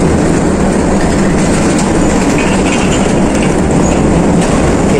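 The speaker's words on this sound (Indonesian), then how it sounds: "Jadi kereta api ini bawa kontainer yang isinya barang-barang dari Pelabuhan Tanjung Priok." A container freight train near Tanjung Priok port rumbles past very close and loud, a continuous heavy roar with low rolling noise and faint wheel clatter, with no talking.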